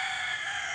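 A rooster on a chicken farm gives a brief crowing fragment, a steady sustained call heard alone with no talking.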